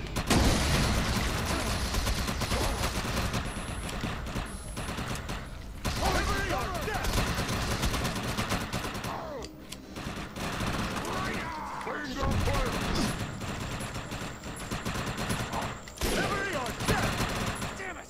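Gunfire from the Defiance video game, a dense mix of rapid shots and bursts running throughout, loud and close, with sections of speech over the shooting.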